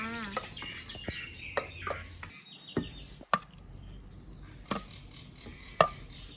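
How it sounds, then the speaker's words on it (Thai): Small birds chirp in quick, high bursts near an outdoor kitchen where a Thai tamarind-shoot salad is being served. Sharp knocks and taps of utensils sound in between, along with faint talking. "เสียงนกแบบรบกวนนิดนึงนะ"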